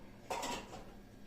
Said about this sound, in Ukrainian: Краще помию посуд. Це не так шумить.